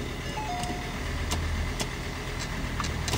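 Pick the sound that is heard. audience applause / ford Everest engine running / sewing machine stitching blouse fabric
ford Everest engine running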